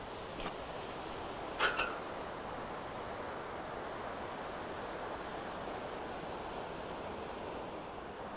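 Steady broadband rush of a waterfall in a Glen Coe valley, heard from above as a constant even wash with a couple of brief sharp knocks near the start and no voices.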